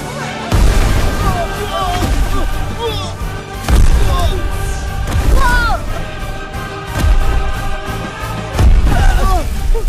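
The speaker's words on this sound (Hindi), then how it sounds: "बी को पटाखों की आवाज क्यों नहीं आ रही है?" Firecrackers go off in an animated cartoon: repeated booms and cracks burst out at intervals, mixed with lively cartoon voices and squeaky sound effects.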